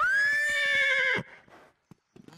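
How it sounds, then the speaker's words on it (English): A horse in a children's animated farm show gives a loud, clear whinny, followed by a few faint hoof clip-clops after a brief pause. "There's Louis the horse."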